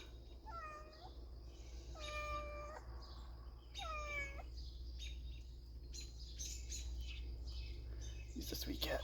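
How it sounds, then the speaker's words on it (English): A cat named Sphinx lets out three distinct, drawn-out meows in fairly quick succession, close by but soft, over a low steady background hum, followed by faint chirpy sounds. "He's a sweet cat."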